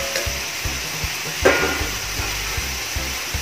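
Bopis made with pork lung is being sautéed in a pan: a steady sizzle under rhythmic scraping of a spatula against the pan, with one brighter scrape partway through.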